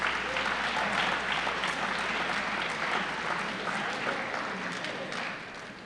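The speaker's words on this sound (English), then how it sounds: "I'd like to have everybody give a round of applause for the support that they have provided you." A school assembly audience at a high school yearbook ceremony gives a sustained round of applause, dense and steady throughout, tapering slightly toward the end.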